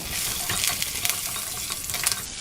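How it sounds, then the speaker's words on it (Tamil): Curry leaves, dried red chillies, green chillies and ginger sizzle and crackle in hot oil in a pan, with steady frying hiss and a few stirring scrapes, close and loud with no talking. "இப்போ நம்ம கருவேப்பிலை, வரமிளகாய், பச்சை மிளகாய், இஞ்சி எல்லாத்தையும் ஆட் பண்ணிக்கலாம்."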